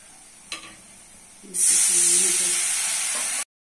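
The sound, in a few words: spices with onion frying in hot oil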